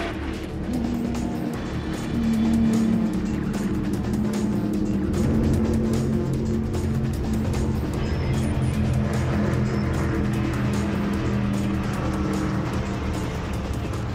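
A race car from a street car challenge at a circuit roars through the last chicane at turns 12 and 13, then accelerates hard up the front straight. The engine note is loud, close and continuous, rising as the car pulls away.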